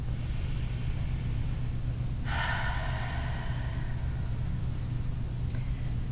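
Single deep inhaled breath, close and audible for about a second and a half, over steady low background hum with no talking.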